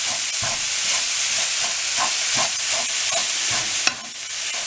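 Carrots frying lightly in hot oil with mustard seeds, a steady close sizzle with soft stirring scrapes and a few brief pops, no talking.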